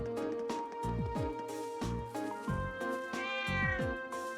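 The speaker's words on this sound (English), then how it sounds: "Thank you, cat." Several meows from a cat in the video game Trails of Cold Steel come in bursts over a steady game music backdrop, with one drawn-out, rising cry near the end.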